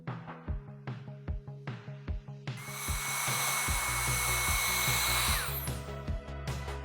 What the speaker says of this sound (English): They're getting all blow dried down